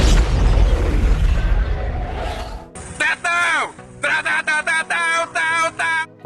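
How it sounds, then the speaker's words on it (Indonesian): A loud, deep explosion from the animated film Big Hero 6 booms and rumbles for a couple of seconds, then gives way to a voice speaking in clipped bursts. "Terjadi ledakan yang sangat dahsyat"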